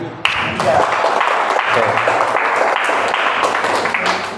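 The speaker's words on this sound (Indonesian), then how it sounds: "Pinter sekali, tepuk tangan." Audience applause from participants at a youth psychology training session, dense steady clapping across the whole stretch, loud and close, with a brief spoken word at the start.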